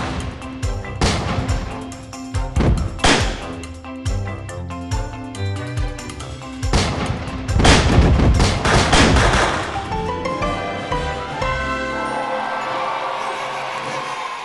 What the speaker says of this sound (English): Those fireworks will light up the sky.